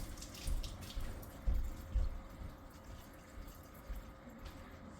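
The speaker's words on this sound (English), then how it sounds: "The water's running smooth through the RO." Water runs steadily through an iSpring reverse osmosis filtration system under a sink, making a soft continuous rush with a few low knocks and gurgles. The flow is faint and close, with no talking.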